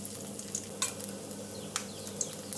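Two dry red chillies fry in oil with a continuous close sizzle and crackle, punctuated by a few sharp spatters and light pops.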